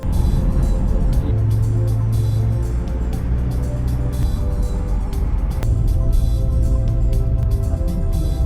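A car drives along a road in Morocco, heard from inside as a steady, loud engine and road rumble that runs through the whole stretch with no talking.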